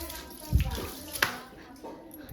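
Water runs and splashes while a stove is washed down, a steady rushing wash with a few louder splashes near the start and in the middle, at close range.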